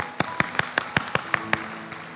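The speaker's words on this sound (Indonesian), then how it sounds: "Boleh berikan tepuk tangan yang meriah buat Tuhan kita." A church congregation claps in a short, rhythmic burst, about eight evenly spaced sharp claps in unison, fairly clear in a quiet room and then fading away.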